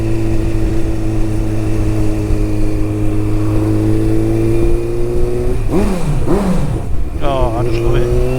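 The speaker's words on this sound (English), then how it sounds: "The sound is lovely of this bike." A Honda CBF 1000 motorcycle engine hums steadily while riding, a smooth, droning note that rises and falls in pitch toward the end as the throttle changes, with a voice talking over it.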